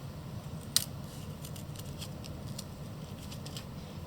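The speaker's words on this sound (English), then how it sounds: "then all you're going to do is then cut around that edge" Scissors snipping around the edge of a paper cup, a few short crisp cuts spaced through a low steady background hum, one sharper snip standing out near the start.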